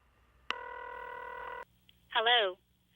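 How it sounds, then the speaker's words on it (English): A telephone rings once on the line: a steady, close electronic ring lasting about a second, followed by a brief pause and a short voice. "It's ringing."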